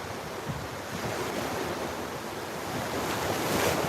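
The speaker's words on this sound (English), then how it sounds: "This is a Florida beach." Waves breaking on a Florida beach at sunset, a steady wash of surf with heavy wind buffeting the microphone, swelling slightly louder toward the end with no voices.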